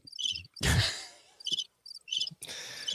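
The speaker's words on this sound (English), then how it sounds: "You gave me the crickets." A cricket chirping sound effect on a podcast, short repeated trills broken by a loud breathy whoosh or groan-like sound and brief pauses of silence.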